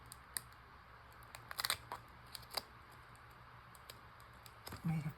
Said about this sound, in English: Might have to snip that with my little baby scissors